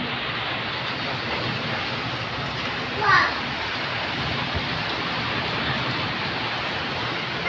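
Heavy rain driven by strong wind pours down in a steady, dense roar, with a brief faint voice rising over it partway through.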